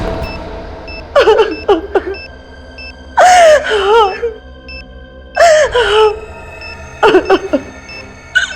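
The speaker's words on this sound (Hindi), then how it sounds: "रोने की आवाज?" A person cries and whimpers in a tense crime-drama scene, with several sobbing, wailing bursts separated by pauses, while a faint electronic beeping repeats steadily in the background.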